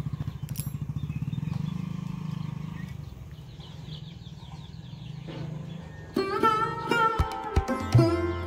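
A motorcycle engine drones low on a muddy road and fades as it rides away, followed by chickens clucking and calling nearby.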